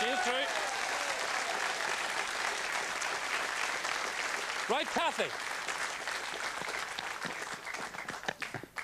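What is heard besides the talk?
studio audience applause for a contestant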